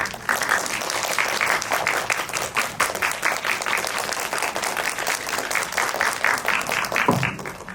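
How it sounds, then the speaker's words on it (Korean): Sustained audience applause at a film screening talk event, a dense crowd clapping steadily for several seconds before trailing off. "박수 부탁드립니다."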